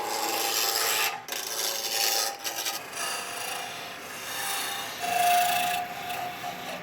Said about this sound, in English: We take the piece of wood, set up the lathe.